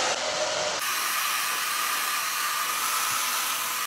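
A hair dryer blows steadily and loudly on hair, a constant close whooshing hiss that shifts slightly in tone early on and cuts off abruptly at the end.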